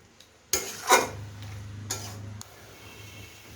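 A spoon scrapes and clanks around a pan of eggplant and fish-head curry, with a couple of sharp metallic knocks early on and a soft sizzle running underneath.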